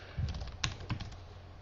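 Quick, light keystrokes on a computer keyboard, a short burst of close taps with a few sharper clicks, quiet and unaccompanied by speech.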